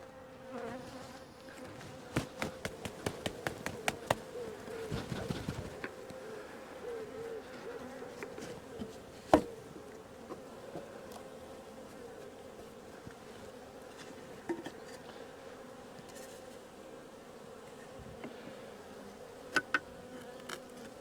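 Steady, dense buzzing of many honeybees close by at an open hive, with occasional sharp clicks and knocks over the continuous drone.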